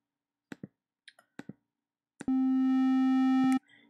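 A few short clicks, then a sustained buzzy tone from Arturia Pigments' phase distortion fractalize mode, bright, harmonically rich and gritty, holding for over a second before cutting off.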